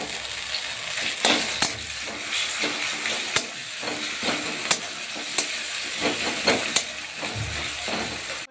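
Onion paste fries in a hot pan, with a steady sizzle and hiss broken by sharp clicks and scrapes of stirring at irregular intervals.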